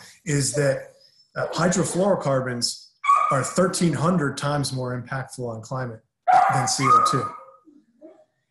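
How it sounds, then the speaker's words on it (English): A dog barks and yips somewhere in the background of a home setting, faint and intermittent beneath a man giving a continuous spoken talk. "you may hear some barking in the background"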